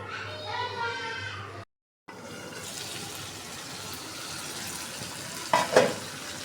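Fish curry masala being sautéed in oil, with a voice talking briefly at the start, then a steady, moderate sizzle and stirring that ends in a couple of louder scraping bursts near the close.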